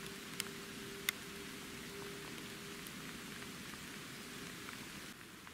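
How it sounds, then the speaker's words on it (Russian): Steady rain patters through an autumn forest during a September hazel grouse hunt, a continuous soft hiss of drops on leaves with a couple of sharp ticks near the start. "У меня пошел дождь."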